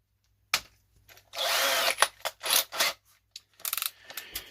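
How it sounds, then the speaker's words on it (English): A power drill bores out rivets on an old metal PC case in short, loud bursts separated by brief pauses, with small clicks and rattles between the whines. "we could just demount it totally using a drill."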